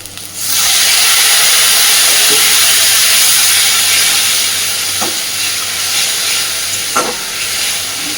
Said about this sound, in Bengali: দিয়ে দেবো খুব সামান্য একটু জল।